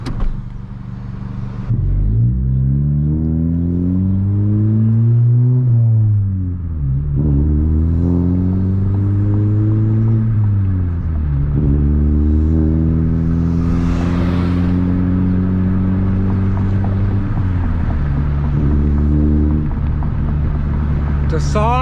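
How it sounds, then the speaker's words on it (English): A Honda Civic Si (10th generation) with an AWE Tuning track exhaust revs up repeatedly with a deep, loud exhaust rumble, rising in pitch through several accelerations and dropping between shifts, heard from inside the car. "The exhaust is so loud when you step on it, but yeah, it's so deep."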